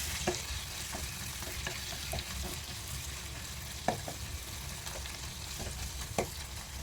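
Curry leaves sautéing in a pan while a Tamil-style coriander chicken gravy is prepared, giving a steady close sizzle and frying hiss with a few sharp pops and spatula taps, no voices.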